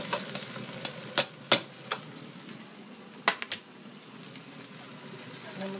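Chopped courgettes hit a hot pan and sizzle quietly, with a few clattering knocks and scrapes of stirring over a steady low hiss.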